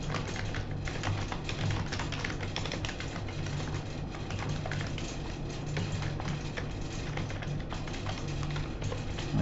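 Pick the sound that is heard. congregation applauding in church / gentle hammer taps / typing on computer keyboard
typing on computer keyboard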